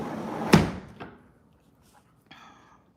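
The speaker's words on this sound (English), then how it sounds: "Let me get the door open." A household door opens with a loud thunk at the start, followed by a softer knock and faint rattles of the latch, then a brief scraping sound near the end, with no talking.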